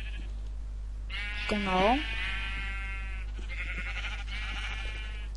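Sheep in the video game Minecraft bleat in a loud harmonic call, followed by softer bleating, with someone speaking briefly over a steady low hum.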